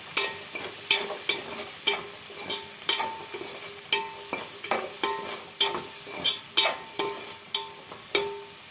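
Onions fry in oil until golden for a Telangana-style potato egg curry: a continuous sizzle with regular clicking stirs of a spatula against the pan, close and fairly loud, with no voices.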